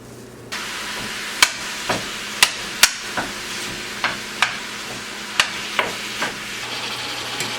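Frozen hamburger meat browning on high heat in a pan, a steady close sizzle broken by repeated sharp pops and spatters.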